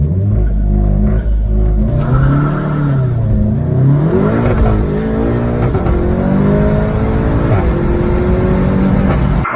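A car revs hard during a launch control start, the engine climbing and holding loud and close with rising and falling pitch throughout, with no voices.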